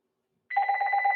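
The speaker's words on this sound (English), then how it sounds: "I'm gonna let this phone ring." A telephone rings with an electronic warbling trill that starts abruptly after a brief silence and continues steadily at moderate volume nearby.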